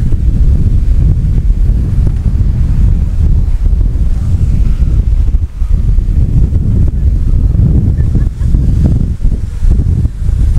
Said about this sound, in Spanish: Mira, viene la ola grande, esa va a reventar aquí.